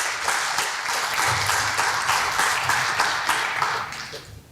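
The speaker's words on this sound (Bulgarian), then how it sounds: "И отново аплодисменти за момичетата от клуб по художествена гимнастика Елит и детско-юношески народен хор Жарава." A crowd applauds at the Avgustiada 2020 queen-selection ceremony in Stara Zagora, cheering girls from the Elit rhythmic gymnastics club and the Zharava children's folk choir. The clapping is dense and sustained, with a faint pulsing rhythm, and fades slightly at the end.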